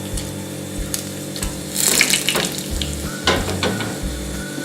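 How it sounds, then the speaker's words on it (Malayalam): Dried red chilies fry in hot oil in a pan for a Kerala-style cucumber moru curry. A steady sizzle with crackling bursts stays close and fairly loud, with no talking. "ഇനിയിപ്പൊ ഇതിലേക്ക് വറ്റൽമുളക് ചേർത്ത് കൊടുക്കാം."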